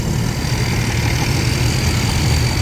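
A 20-year-old Kinnaree rice combine harvester engine running steadily, loud and close, with a constant low rumble and a faint high whine and no variation in pace.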